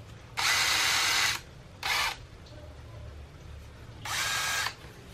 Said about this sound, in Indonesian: ini speed 1, speed 2.